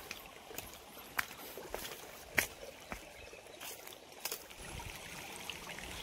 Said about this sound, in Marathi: झरीला आता थोडासा पाणी चालू आहे.